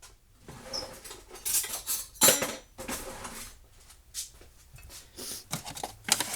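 Self-rising flour being sifted and mixed in a kitchen, with soft irregular scraping, tapping and rustling bursts of utensils against a bowl or sifter, close and fairly quiet.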